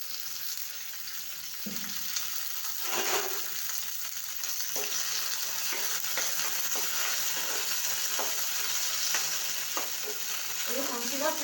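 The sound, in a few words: green chillies roasting in oil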